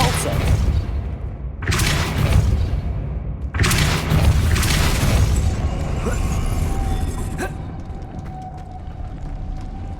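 A Depulso force spell goes off twice in the Hogwarts Legacy video game, each cast a loud, sudden boom that trails off into a rumble, with some faint noise after.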